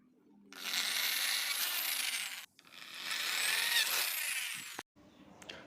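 A power drill bores holes into a small plastic box in two long whining bursts of about two seconds each, separated by a brief pause, followed by a short clunk and quiet handling noise.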